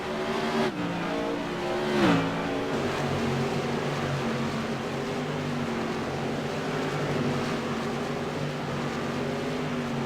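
Modified race cars thunder around USA International Speedway at night, several engines droning and shifting pitch together as they run side by side into the front stretch, loud and continuous with a brief rise as one accelerates.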